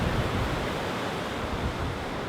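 Ocean waves on the Sea of Cortez shore in Baja, a dense, steady wash of surf that rolls in and fizzes with an even, close roar and no voices.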